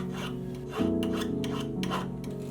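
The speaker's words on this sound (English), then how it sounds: "Using a finer file, smoothing it out and getting it closer to the polishing stage." A finer file smoothing a handmade metal earring, a close continuous rasp with repeated back-and-forth strokes and a faint tonal hum underneath, no voices.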